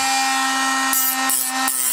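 Cordless battery angle grinder from China cutting, a steady high-pitched whine with a strong tonal hum, briefly bursting into harsher rasping bites three times as the disc meets the material, close and loud throughout.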